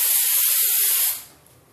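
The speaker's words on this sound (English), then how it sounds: "you just spray it all over your face" A loud, steady aerosol spray of makeup setting spray onto a face hisses for about a second, then cuts off abruptly, leaving near silence.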